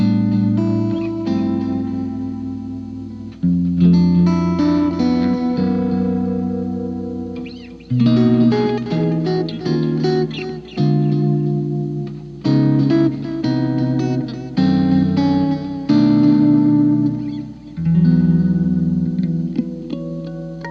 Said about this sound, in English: just listen to how good it sounds processing compression, delay, reverb, and a little bit of grit